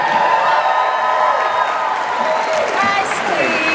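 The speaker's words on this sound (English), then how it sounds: "Another giant round of applause for these two incredible people." Comic con panel audience keeps cheering and clapping, a loud continuous crowd roar with shouts and whoops layered over steady applause.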